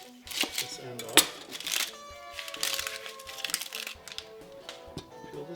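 A knife cuts the end off an onion on a cutting board, with crunchy slicing and crinkling papery skin, plus a sharp knock of the blade on the board, close and moderately loud amid light kitchen clatter.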